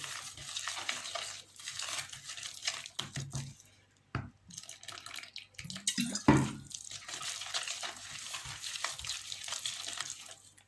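Water added to a runny tile adhesive mixture, stirred and sloshed in a container up close, a continuous wet swishing with drips and a few brief knocks.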